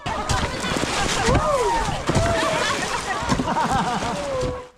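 Water splashes and sloshes steadily during a water fight between rafts on a river, with voices and shouting throughout.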